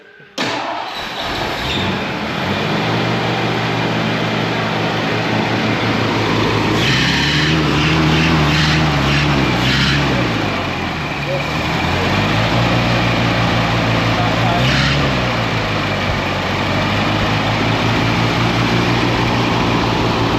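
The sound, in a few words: 1974 Ford Ranchero 351 Cleveland engine warming up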